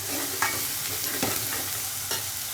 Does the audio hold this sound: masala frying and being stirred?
yes